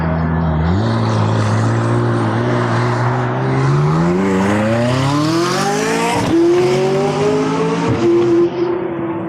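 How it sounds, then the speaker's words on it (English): A loud Lamborghini- or Ferrari-like sports car exhaust accelerates past an intersection, pitch climbing through several gears with brief dips at shifts, close and dominant over the background. "There you go, farting car."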